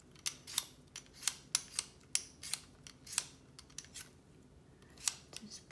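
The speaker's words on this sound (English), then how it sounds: "And here I have some ginger, peel it off a little bit." Fresh ginger root peeled with a handheld vegetable peeler in a home kitchen: a dozen or so short, dry scraping strokes in an uneven rhythm, close and quiet.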